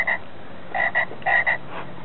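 A croaking frog sound from a Frog Prince tombstone prop in a home Halloween haunt, with several short croaks in an irregular pattern, clear and fairly close over a quiet background.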